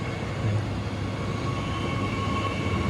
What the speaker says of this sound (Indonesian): KRL di Langsir ya.